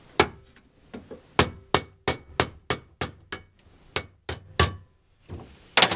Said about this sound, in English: I'm going to take my flathead screwdriver and I'm going to take a hammer.